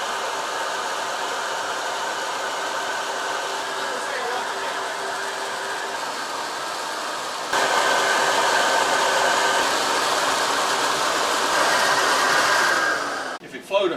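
A loud, steady whooshing roar of rushing air from a cylinder head flow bench testing at 28 inches of vacuum, stepping up slightly in intensity partway through before cutting off near the end.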